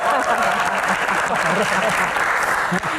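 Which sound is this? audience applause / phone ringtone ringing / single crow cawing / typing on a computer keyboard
audience applause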